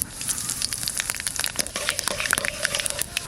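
Panch phoron spices crackle and sizzle in hot mustard oil in a kadai before spinach goes in. The close, busy frying hiss carries a dense scatter of sharp pops throughout.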